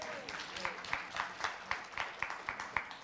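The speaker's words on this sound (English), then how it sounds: "Round of applause for Kitty" Light, fairly quiet applause from a small forum audience for a panel member, a sparse run of individual claps in a loose rhythm, with faint voices underneath.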